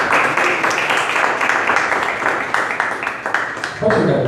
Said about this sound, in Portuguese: Quem crê nisso, aplaude o Senhor, em nome de Jesus